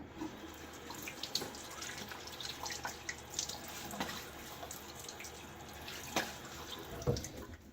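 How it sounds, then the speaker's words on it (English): Water running from a bathroom tap into a sink while a man splashes his face before shaving, a steady close trickle with soft splashes and drips, no talking. "Just a little water on my face."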